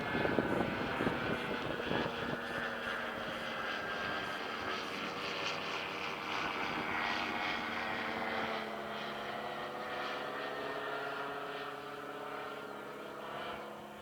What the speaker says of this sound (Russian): Какой-то небольшой самолетик потарахтел над пустыней,